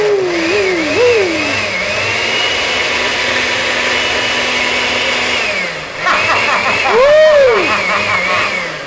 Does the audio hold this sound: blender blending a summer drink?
yes